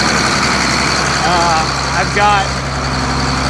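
A roughly 240-horsepower tractor engine idling in dry weather, a steady, loud mechanical drone running throughout as someone talks briefly over it.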